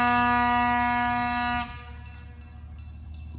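EMD diesel locomotive horn blasting at the Illinois Railway Museum, a loud sustained multi-tone chord held about a second and a half before cutting off, leaving low distant rumble.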